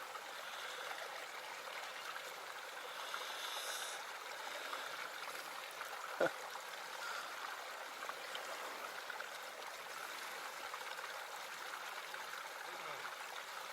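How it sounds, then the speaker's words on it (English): A small stream at the source of the River Wye trickles and babbles steadily, quiet and continuous, with one brief sharp click partway through. "This is the sound of the source of the River Wye."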